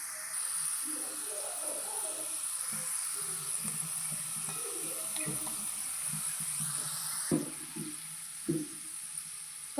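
Onions and cashews frying in oil for chicken biryani give a steady, fairly quiet sizzle, with a couple of soft knocks from stirring toward the end.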